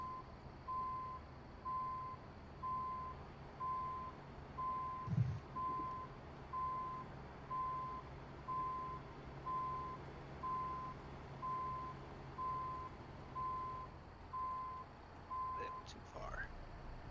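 Steady reversing beeps from a truck in American Truck Simulator, repeating evenly at about one per second for the whole stretch over a low engine hum, with one brief thump partway through and no talk.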